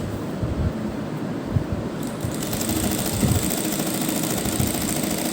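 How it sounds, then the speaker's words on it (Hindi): A sewing machine runs steadily, stitching lace onto a cutwork neckline design, a close continuous mechanical whir and rattle that picks up a little speed partway through, with no talk. "हम इस कटवर्क को रखते हुए हम इस तरह से सिलाई लगा देंगे"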